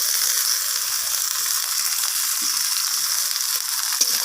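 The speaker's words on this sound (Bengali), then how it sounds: "পেঁয়াজের টমেটোটাকে আমি ভেজে নেব" Onions and chopped tomatoes fry in a pan for egg curry, a steady bright hiss of sizzling oil with occasional soft stirring taps, close and even throughout.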